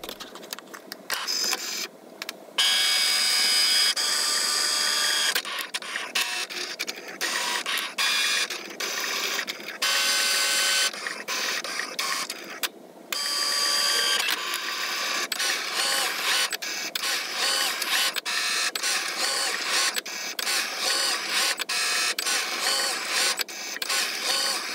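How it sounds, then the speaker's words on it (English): An inkjet printer prints a page for a Cricut print-then-cut project. It makes a loud, continuous mechanical whir broken by rhythmic carriage passes and short pauses, close up, with no voices. "And I'm ready to send it to the printer."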